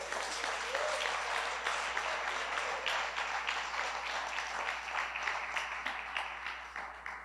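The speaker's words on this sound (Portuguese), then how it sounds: "Vamos aplaudir a palavra, vamos aplaudir o Senhor" A church congregation at Comunidade Resgatando Vidas applauds in a steady, even stretch of clapping that sounds quiet and somewhat distant, with no talking over it.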